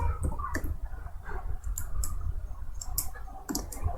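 Computer keyboard being typed on while JavaScript code is entered, a quick irregular run of close, crisp key clicks over a low background rumble.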